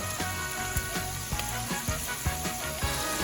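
Pork chops frying in a pan with caramelized onions, a steady close sizzle with light crackles and occasional scraping taps from stirring, no voices.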